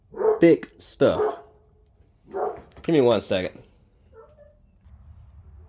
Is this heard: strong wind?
no